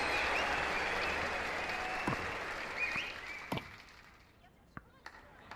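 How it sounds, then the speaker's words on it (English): A crowd at a VR tennis esports match cheers and applauds after a rally, a dense roar that gradually fades, punctuated by a few sharp impacts as a commentator speaks over it. "the crowd is going nuts"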